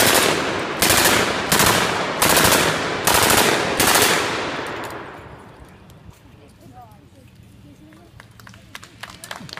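A Philadelphia Ordnance full-auto blank gun fires six loud, evenly spaced bursts over about four seconds, each sharp and echoing, then fades into a quiet tail with faint background noise.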